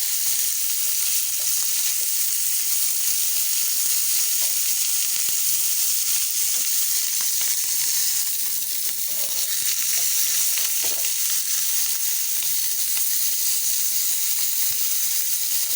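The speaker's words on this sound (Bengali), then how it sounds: "এখন আমি আস্তে আস্তে বেগুনটা ভেজে নেব।" Eggplant pieces frying in hot oil in a pan give a loud, continuous hiss and sizzle, steady and close throughout with faint crackles.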